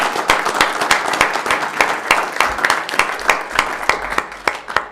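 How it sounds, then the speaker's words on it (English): Applause for a man named Ray at a county commission meeting: a room of people clapping steadily for about five seconds, individual claps distinct and fairly close, moderately loud with no talking over it. "Let's give Ray a round of applause."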